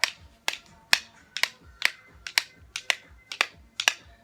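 Sharp taps from a spatula or chopsticks struck during an arm and triceps workout exercise, about ten crisp, evenly spaced hits over a few seconds, close and alone with no talking.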